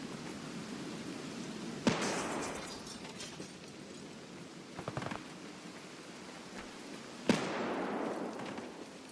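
Grenades going off in a first-person shooter game, two separate sharp blasts several seconds apart, each with a hissing decay, fairly faint over a steady background hiss.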